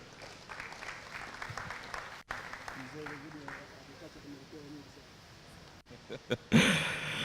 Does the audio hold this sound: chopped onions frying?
no